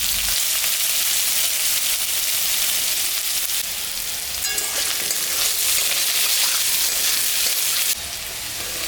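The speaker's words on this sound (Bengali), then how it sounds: "আলু পেঁয়াজটা ভাজা হয়ে গেছে" Potatoes and onion fry in hot oil. A loud, continuous sizzle crackles on without a break, with a brief slight shift partway through and no talking.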